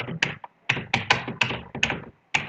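Fingers tapping out a folder name on a computer keyboard, a quick uneven run of close, crisp keystrokes in short bursts with brief pauses between them and no talking.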